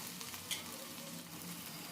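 Chopped onion with ginger garlic paste stirred and lightly fried in oil for a cauliflower and potato curry, giving a close, steady sizzle with a couple of sharper spoon scrapes.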